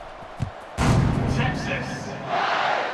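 Football stadium crowd at a Texas vs USC game roaring at kickoff, a thump followed by a loud sustained swell of cheering that rises again near the end.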